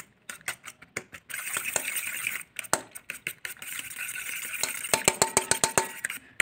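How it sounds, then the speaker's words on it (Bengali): Eggs are whisked briskly in a bowl, giving quick rhythmic clicks and taps of utensil against the dish, close up and fairly quiet, speeding into a tight tapping burst near the end. "তো এবার আমি সবগুলো একবার করে ফেটিয়ে নিচ্ছি ভালোভাবে, যাতে ভালোভাবে মিক্স হয়ে যায় সব কিছু।"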